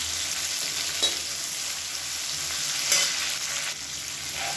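Sliced big onions, a handful, frying in hot oil with curry leaves, a steady close sizzle broken by a couple of brief stirring scrapes, no voices.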